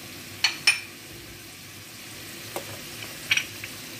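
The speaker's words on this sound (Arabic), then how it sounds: "دابا مطيشه ديالي كتشحر كيف ما شفتو ناشفه" Tomato frying in a pan with garlic, salt, paprika and ginger for a meatball lasagna sauce gives a soft, steady sizzle, broken by a few sharp scrapes or clinks of a stirring utensil near the start and end.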